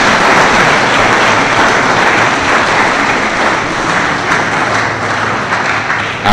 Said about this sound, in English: Let's give a clap again to our distinguished speaker.